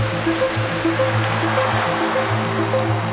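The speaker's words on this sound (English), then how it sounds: "I never liked the sound of the rain." Steady rain falls in a continuous hiss of drops and trickling water, with soft sustained musical tones playing beneath it.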